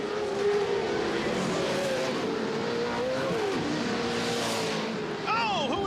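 Pro 4 and Pro 2 off-road race trucks roaring and revving, engines rising and falling as they pass, loud and continuous under an excited commentator's voice.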